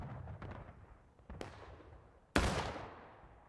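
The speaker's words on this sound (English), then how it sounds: "nice cannon shot there against James Wellesley's 88th" Cannons fire in the American Civil War video game War of Rights, with a few distant thuds and cracks followed by one loud, close boom that rolls away, set against a battle din.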